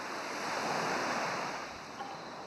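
Ocean waves wash onto the shore at night under a red moon, one soft swell rising and receding as a broad, hushing rush, gentle and steady with no voices.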